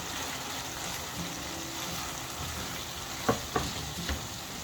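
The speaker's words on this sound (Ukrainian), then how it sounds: "І зараз вже час додати томати, які я порізала на 4 частини, оскільки вони коктейльні." Quartered cherry tomatoes fry in a pan for paella, giving a steady close sizzle with a few sharp clacks of a utensil near the end.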